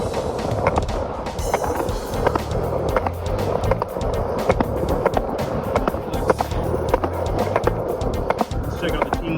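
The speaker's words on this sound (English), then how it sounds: "Sorry about the skateboard noise," Skateboard wheels roll steadily over pavement outdoors in Culver City, a continuous gritty rumble with rhythmic clacks from seams and cracks, loud and close for the whole stretch.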